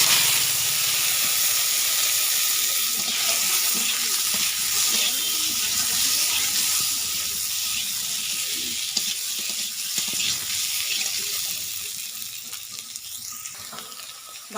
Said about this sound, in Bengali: সেটা ভেজে নিচ্ছি।